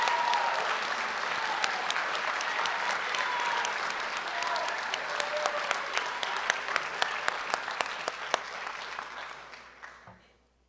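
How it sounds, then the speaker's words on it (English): An audience at a Belton ISD school board meeting applauds Lake Belton High School's AP scholars, a sustained burst of clapping from a room of people with individual sharp claps standing out, fading away at the end. "please give a round of applause for Lake Belton High School's AP scholars."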